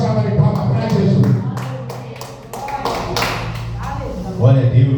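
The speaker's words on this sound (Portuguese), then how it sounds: "dê uma forte salva de palmas para Jesus" A church congregation at an Assembly of God service claps for Jesus in a loud, close, steady burst of many hands, with voices speaking and calling out over it.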